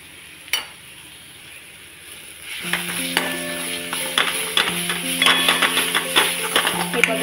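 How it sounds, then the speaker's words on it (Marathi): Turmeric stirred into green chili and ginger paste in a pan: scraping spoon strokes and clinks over a steady sizzle, quiet at first and then rising into busy stirring with no talk. "हे बघा हळद सुद्धा आपण परतून घेतलेली।"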